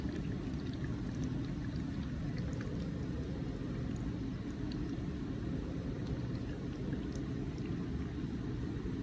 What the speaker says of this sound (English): and rinse with distilled water